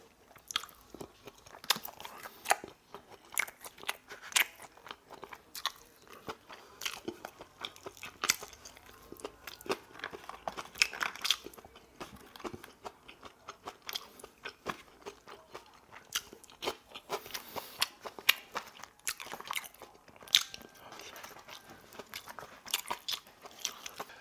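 Someone eating food after a shoulder workout, with close, crunchy biting and chewing repeating steadily throughout, no talking.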